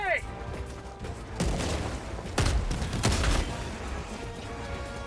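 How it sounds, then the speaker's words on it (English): Shotgun blasts and explosive booms in Helldivers II, several heavy shots spaced about a second apart over a rumbling battle backdrop, fairly close and loud. "But I've got a new shotgun."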